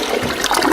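A toilet flushing with a brief, steady rush of water, loud and close.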